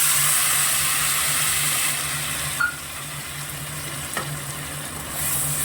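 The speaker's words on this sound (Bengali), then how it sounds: "এটা আমি তেলের মধ্যে দিয়ে দিলাম" Paste of onion, garlic, ginger, green chili and tomato frying in hot oil for a tapse fish curry, giving a steady close sizzle with a low hum beneath and a couple of faint utensil clicks.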